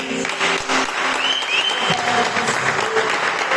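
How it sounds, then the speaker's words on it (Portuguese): A church congregation claps together in a dense, steady burst of applause, loud and close, lasting a few seconds with a faint murmur of voices behind it. "Vamos aplaudir a Jesus."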